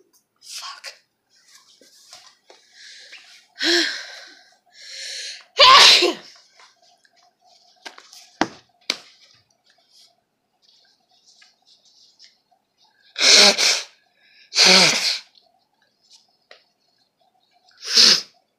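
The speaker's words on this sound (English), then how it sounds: "I'm fixing to start sneezing." A person sneezes several times in a quiet room, with sharp, loud bursts separated by pauses, and soft breaths and small noises in between.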